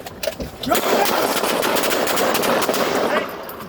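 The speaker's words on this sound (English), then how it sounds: "those officers start firing shots at him" Rapid bursts of police gunfire from officers shooting at an armed man, recorded in news footage; loud, sustained volley of cracking shots filling most of the clip, fading near the end.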